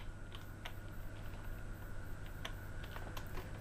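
Rapid, irregular keystrokes on a computer keyboard, soft close clicks over a low steady hum, as text is typed into a text box.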